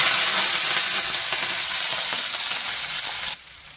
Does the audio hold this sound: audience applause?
no